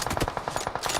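Rapid bursts of automatic gunfire in the mobile battle royale BGMI during a sniping match, loud repeated shots in a quick uneven rhythm across the whole moment, with no talking.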